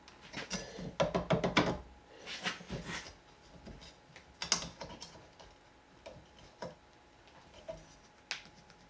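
Small metallic clicks and taps sound in short close bursts as a Surefire Centurion handguard mount is tightened down on an AR15 upper receiver, with quieter pauses between.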